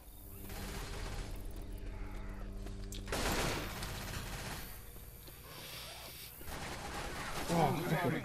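Gunfire in Left 4 Dead 2 during a co-op fight at the Dark Carnival, with bursts of shots mixed into a dense game soundscape, a loud burst near the middle and again at the end, while players talk over it.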